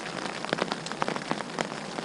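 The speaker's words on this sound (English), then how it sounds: "So that it's raining and shining, raining and shining." Steady rain patters on a surface outdoors with the sun out, a continuous wash of close drops with scattered louder individual hits and no voices.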